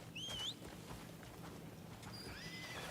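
A summoned horse arriving in the Crimson Desert video game: a whinny near the start and a later rising neigh over a steady game background, with faint soft hoof sounds between.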